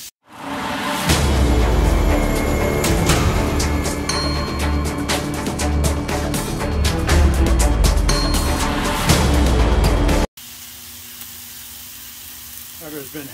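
Beef for a Texas cheese steak hitting a hot griddle and sizzling loudly, with sharp crackles and scraping over a steady hiss before the sound drops abruptly to a quieter background.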